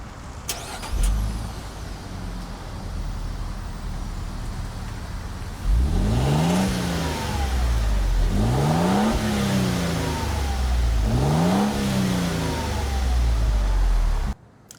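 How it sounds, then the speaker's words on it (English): A Lexus GX550 Overtrail's engine fires up after a quiet idle-free pause, then settles into a steady idle broken by three sharp revs through the exhaust, each rising and falling back, heard close and loud. "While we're talking about the exhaust, have a quick listen to it fire up and get a couple of revs in."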